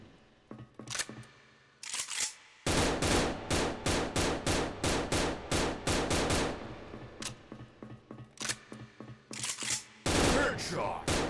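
Rapid automatic rifle fire from an M16A2 and an AK200 in the online shooter Special Force, long bursts of sharp cracking shots in fast rhythm with short pauses between volleys, loud and close.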